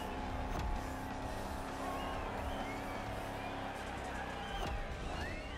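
A Shelby GT500 engine in the racing game The Crew Motorfest holds a steady, moderately loud drone with tire noise and a faint squeal, continuous throughout.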